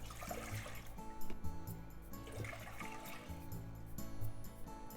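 Tap water running into a cooking pot to make udon soup stock, a steady continuous splash and trickle lasting the whole stretch, close and fairly quiet with no talking.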